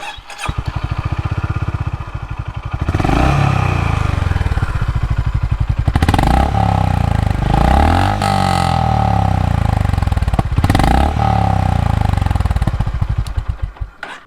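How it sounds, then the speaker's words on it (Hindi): A Honda Highness CB350 motorcycle engine idles with a deep, throbbing exhaust note, then revs up loudly several times, close and powerful, with mechanical clatter. "अब एक काम करते हैं, इसका एग्जॉस्ट नोट सुन लेते हैं"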